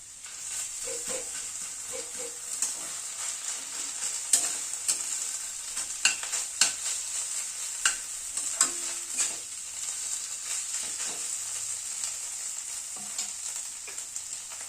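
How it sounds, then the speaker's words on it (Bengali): Beans and spices, including ginger paste and Kashmiri red chili powder, are stirred and fried in a pan for a dal made with spinach and winter vegetables. A soft, steady sizzle runs throughout, with scattered scraping clicks from stirring. "বিনসটা দিয়ে আবার একটু নাড়াচাড়া করে নিলাম"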